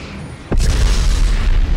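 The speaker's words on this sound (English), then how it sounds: "Cool guys don't look at explosions" Explosion fireball in the MechWarrior Living Legends video game, a sudden loud boom that bursts in and holds as a heavy rumbling roar for over a second.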